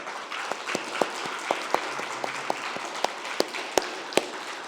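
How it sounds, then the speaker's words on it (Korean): A church congregation applauding during a Sunday worship service to welcome a pastor; a steady, medium-sized spread of clapping with a few sharper individual claps standing out, continuous for several seconds. "한번 박수하고 환영하고 격려하는 시간 가지겠습니다"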